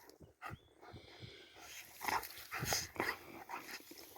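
Dogs whimper, yip and snuffle in short bursts close by, their playful whines rising and falling irregularly.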